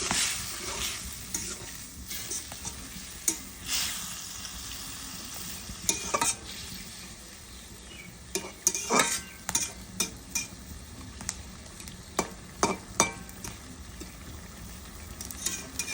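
Rohu fish curry cooking over a wood fire, a faint steady sizzle of frying under repeated scrapes and clinks of a spatula stirring in a pan, close by.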